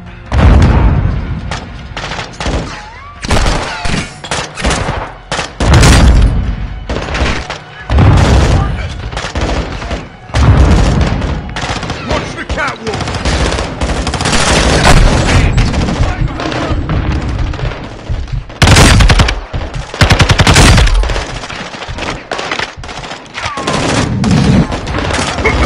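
Heavy gunfire in the Call of Duty Modern Warfare II campaign, with dense automatic bursts and sharp shots in irregular volleys. It is loud and close throughout, and voices shout over it.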